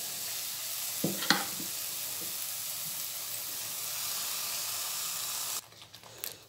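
Mustard greens drop into a spice mix frying in a pressure cooker, giving a steady broadband sizzle and hiss with a brief clatter of stirring near the start, before the sizzle cuts off abruptly near the end.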